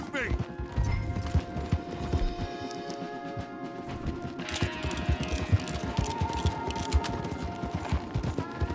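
Horses gallop hard through Red Dead Redemption 2 with rapid, continuous hoofbeats, mixed with rattling tack and game effects and heard under occasional voices.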